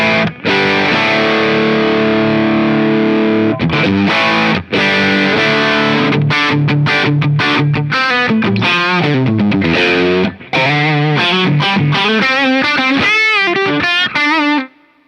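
An electric guitar played through a Visual Sound Open Road overdrive pedal gives loud, distorted sustained chords followed by quicker riffs and single-note bends, played alone without talk.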